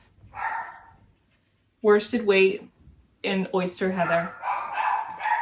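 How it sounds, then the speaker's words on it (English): A dog barking at home, a few short, sharp barks mixed in with someone talking about yarn, nearby and moderately loud, with some of the barks landing between her phrases. "Sorry for my dog."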